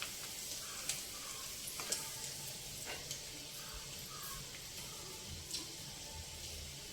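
Faint, steady sizzling of ingredients frying in a pan for semiya pulao, a soft continuous hiss with a few light clicks of stirring, quiet and without talk.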